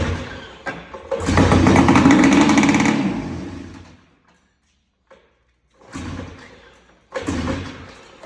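Old snowmobile engine with smoke pouring from the exhaust pipe, running loud and rough for a couple of seconds, then cutting out and revving again in two short bursts after a pause.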